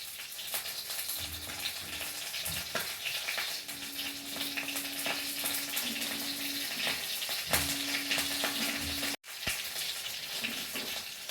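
Bhola fish and radish fry together in a pan, giving a steady, close sizzle with light crackling that runs throughout, broken by a brief drop to near silence.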